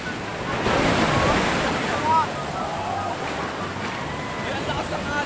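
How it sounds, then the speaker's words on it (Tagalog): Strong ocean waves roll and crash at a beach near Butas Butas Cave in Cagsiay, Mauban, Quezon, a continuous roaring surf mixed with gusty wind noise on the microphone and brief voices in the background. "Ang lakas ng alon."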